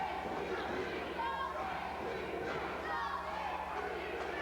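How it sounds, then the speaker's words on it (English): Wrestling crowd at a live show chanting in a steady, sustained roar with rhythmic voices, loud and continuous throughout, with a commentator talking over it. "You hear the crowd chanting"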